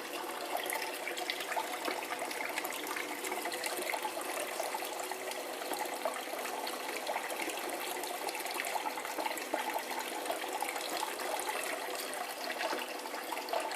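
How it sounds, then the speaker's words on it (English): Steady rush of running water splashing into a gold concentrator bowl processing dredge concentrates, constant and fairly loud throughout, with no voices. "I've got the water set so it doesn't, quote, splash back"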